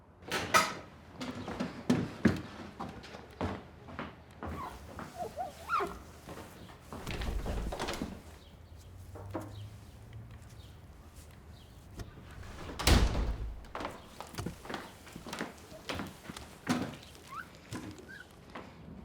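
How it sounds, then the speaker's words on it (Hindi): A door opens indoors with creaks and a series of knocks and thumps spread across a quiet room, some sharp and close, others softer. "जाओ दरवाजा खोलो।"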